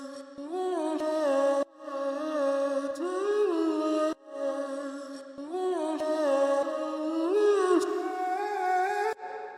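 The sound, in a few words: pitched-down vocal chop sample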